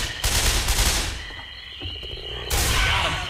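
Guns fire in Left 4 Dead 2 during the Swamp Fever campaign. Dense bursts of rapid shots come in two loud waves with a brief lull between them, and there is no talk.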